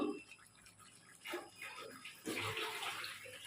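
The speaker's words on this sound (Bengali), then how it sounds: "আমি এই জল দিচ্ছি" Water is poured in a few uneven splashing bursts, soft and close, with quiet gaps between pours and a louder gush toward the end.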